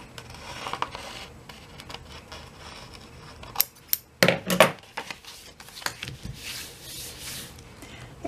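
Scissors trim craft material for an altered CD/DVD case craft project, with a cluster of sharp snips and clicks in the middle among light handling noises, close and moderately loud.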